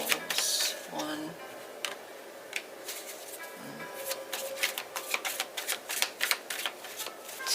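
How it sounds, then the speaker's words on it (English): Tarot cards being shuffled by hand, a quiet run of crisp riffling flicks and taps that quickens into a rapid patter, with a brief murmur of voice early on. "I'm going to do 3 shuffles."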